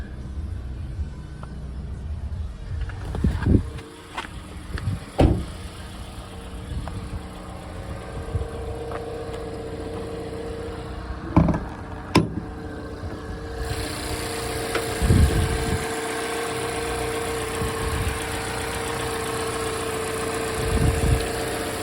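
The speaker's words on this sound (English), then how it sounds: "sounds pretty good, I guess, for a 4-cylinder engine" A Mazda6 Touring four-cylinder engine idles steadily at moderate volume, a low even hum with occasional knocks and clunks on top, no talking.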